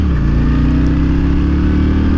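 Honda Shadow 750cc V-twin motorcycle with dual carbs rumbling steadily while riding, a loud, close, low throbbing engine tone under wind noise with no voices.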